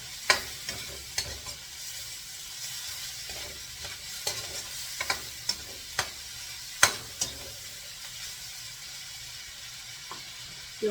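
Chicken gizzards with paprika frying in a pan, a steady soft sizzle broken by sharp scraping and clinking strokes of stirring at uneven intervals, close and alone without speech.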